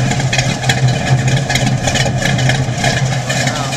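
A Trans Am or 72 C10 with a lumpy cam idles steadily close by, its low, choppy engine rumble rolling on loud and unbroken with a faint hiss of exhaust above it.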